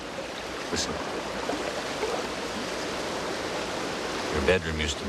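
A river flows steadily near a house in the northern wilderness, a broad continuous rush of water, with a faint brief voice-like sound and a soft knock near the end.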